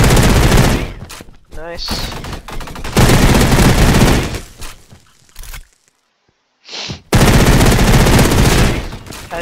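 Full-auto sidearm fire in the shooter Energy Assault, loud rapid bursts in several volleys separated by short pauses, with a brief spoken remark between them.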